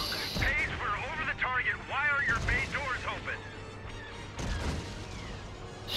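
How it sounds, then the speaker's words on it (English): Several heavy booming explosions burst out amid steady LEGO Star Wars: The Skywalker Saga game noise, with a voice talking excitedly over them. "Explosions."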